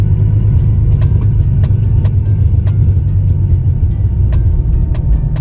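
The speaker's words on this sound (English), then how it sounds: "I think the drive shaft is hitting the heat shield." A Nissan 300ZX rolls slowly in gear with a steady low engine rumble, while sharp metallic ticks recur at a regular pace, the drive shaft striking the heat shield. No one speaks.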